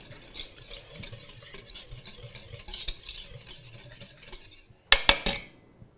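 A utensil stirs cinnamon, nutmeg, salt and baking soda together in a bowl, making soft scraping and swishing strokes close up. A few sharp clinks come near the end. No one speaks.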